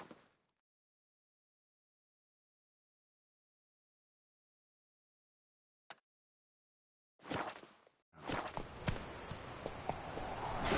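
Roach, the horse in The Witcher 3, clip-clopping in a short burst of hoofbeats after long near silence, growing louder and steadier toward the end.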